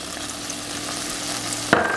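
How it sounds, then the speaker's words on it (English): Diced bacon sizzles in a skillet with a steady, dense crackle. Near the end there is a brief, sharp clatter, like a utensil or lid against the pan. "We are going to add to that bacon, 1 piece of bacon diced up"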